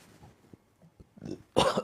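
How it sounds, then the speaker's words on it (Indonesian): Several people coughing and clearing their throats on request during a group healing session, scattered short coughs building to a louder burst of overlapping coughs near the end. "batuk-batukan yuk"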